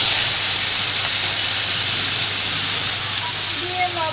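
Chopped green chillies and potatoes dropped into hot oil with cumin seeds give a loud, constant hissing sizzle close by, with no break for the whole span.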